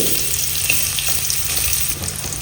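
Steady sizzle of onion and curry leaves frying in about four spoons of oil in a pan, close and continuous, with faint scraping of a spoon now and then and no talking.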